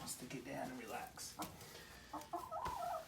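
A hen with bumblefoot clucks in short, scattered bursts at close range, the calls coming in uneven clusters over soft background handling noise.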